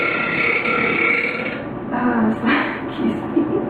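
Drawn-out loud burp from a woman, rolling on for a few seconds with a throaty rasp, followed by brief voices nearby.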